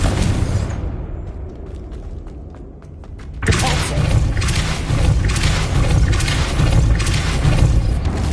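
Magical spell blasts from Confringo and Depulso in Hogwarts Legacy, a sudden heavy booming burst that rolls into a sustained loud roar of rumbling impact and debris, preceded by a quieter stretch with sharp clicks.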